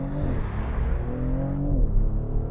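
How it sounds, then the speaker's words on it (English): Maserati GranTurismo Trofeo engine pulling hard through the gears, its exhaust note sweeping up then dropping at an upshift with a burble, loud and steady with no talk over it. "it's got a nice bang / burble on the upshift as well"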